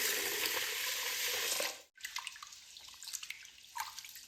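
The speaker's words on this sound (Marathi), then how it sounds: "आता ह्या तांदळाला स्वच्छ पाण्याने 3 ते 4 वेळा धुवून घ्यायचं।" Rice being washed in a vessel of clean water, a loud rushing pour that cuts off, then softer sloshing and light splashes as the grains are rubbed.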